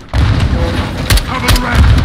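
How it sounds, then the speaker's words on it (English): Grenades explode in a firefight in the Call of Duty Modern Warfare 2 campaign, a loud rolling barrage of blasts and gunfire, with shouted voices mixed into the battle. "Incoming! Take cover! They're launching grenades!"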